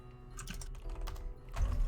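Computer keyboard keys clatter in quick, uneven bursts during an online tabletop role-playing session, with soft close clicks continuing under a low background hum and a heavier thump near the end.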